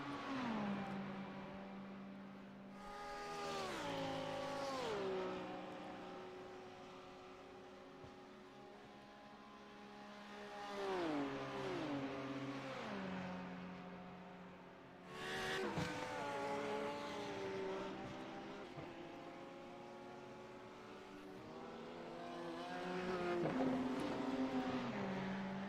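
Race cars at the Le Mans endurance race, including a pink VR Racing car, roar past in several loud surges, their engines rising and falling in pitch as each one passes.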